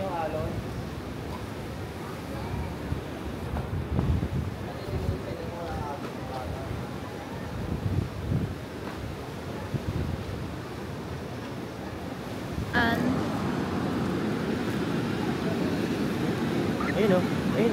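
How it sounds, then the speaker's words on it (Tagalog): Sea waves wash along the shore at Treasures of Bolinao, a steady noisy surf with wind, with a louder surge near the end, as people talk throughout. "Yan dito lang yung alon."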